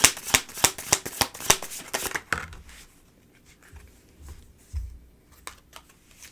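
Tarot cards being shuffled up close, a quick series of crisp riffling snaps for about two seconds, then quieter soft handling and shuffling rustles.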